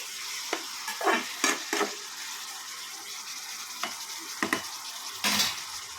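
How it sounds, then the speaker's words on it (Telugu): Tomato and coriander chutney is stirred in a pan, heard as several close, bright scraping strokes of a spoon with brief pauses between them and a soft sizzle beneath. "ఒక్కసారి కలుపుకోవాలండి"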